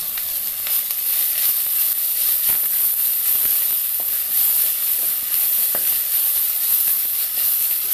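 Crushed kanthari chili, shallots, ginger and garlic sizzling in hot coconut oil for a coconut-milk pulissery, a steady, loud, close frying hiss with faint stirring clicks and no talking.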